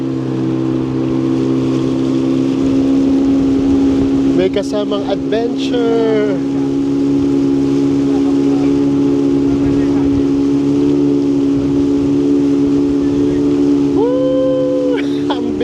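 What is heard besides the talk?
motorboat on a river in Fiji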